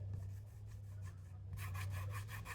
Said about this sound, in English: When I run my finger over this, hear that?